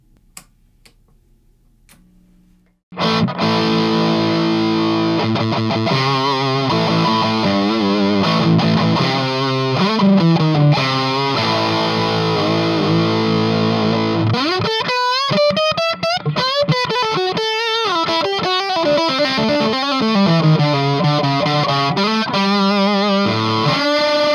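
A distorted electric guitar plays chords and bending lead lines through an Orange amp into a 65 speaker cabinet, loud and close, after a brief quiet start; no talking.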